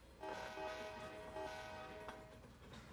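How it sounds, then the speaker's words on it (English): A damaged locomotive air horn in the Run 8 train simulator blares in a sustained, slightly rough and wavering tone for a couple of seconds, with rumbling engine noise underneath. "Our busted up horn, air horn."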